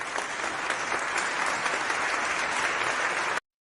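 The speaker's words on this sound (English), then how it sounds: "Little applause for these New York Knicks." Dense, steady applause from a crowd cheering the New York Knicks, filling the space evenly for a few seconds before cutting off abruptly.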